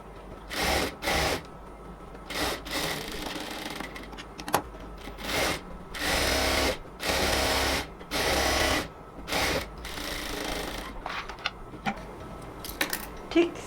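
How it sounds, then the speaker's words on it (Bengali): A sewing machine lock-stitches cotton palazzo pants in short, repeated bursts of rapid whirring, each lasting under a second with brief gaps between, close and moderately loud. "লক সেলাই দিচ্ছি"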